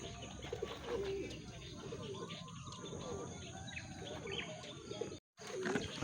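Racing pigeons arrive at a loft after a training flight, cooing and chirping amid a busy outdoor murmur, with a brief dropout near the end.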